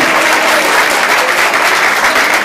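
A crowd at a Hispanic Heritage Month event applauds steadily for a couple's parents, a dense, loud, even wash of clapping that holds from start to finish with no talk over it.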